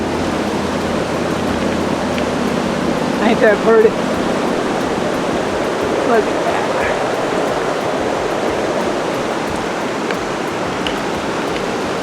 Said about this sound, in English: a lot of water now coming freely down from Garrison Springs